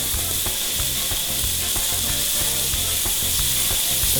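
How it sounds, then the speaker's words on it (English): Beef sliders sizzle in oil in a hot skillet, a dense, steady crackling hiss that holds constant throughout. "Wow, listen to that sizzle."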